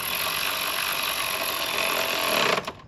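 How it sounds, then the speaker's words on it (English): A power drill whirs steadily at close range for a few seconds, driving into plastic on a Chevrolet Tahoe, then spins down and stops. "you're drilling into plastic"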